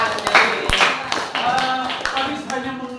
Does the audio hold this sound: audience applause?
yes